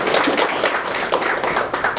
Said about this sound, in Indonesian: Tepuk tangan dulu untuk BPO